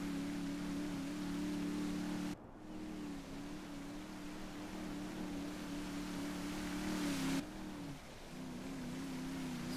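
Boat cruising out at sea in GTA V, sailing from Los Santos toward Cayo Perico, with a steady droning engine hum over rushing water and spray, briefly dipping twice before resuming.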